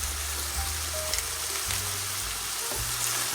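Ground beef frying in a pan for Mongolian noodles, a soft continuous sizzle and crackle with a low background hum, no talking.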